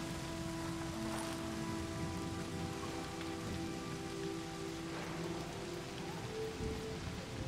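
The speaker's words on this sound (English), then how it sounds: "Oh well, I'm out of the rain at least." Steady rain falling and pattering on surfaces in the video game Season: A Letter to the Future, a continuous dense hiss with scattered drops, heard alone with soft background music tones beneath.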